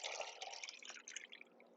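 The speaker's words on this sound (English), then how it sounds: "So I'm going to put this water sample" Marsh water sample poured into a small jar, giving a close, bubbly splash and trickle that tapers off within two seconds.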